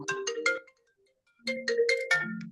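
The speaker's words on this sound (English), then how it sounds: "Yeah, that was my phone going." A mobile phone ringtone plays a bright melodic chime phrase twice, separated by a short pause, clear and close.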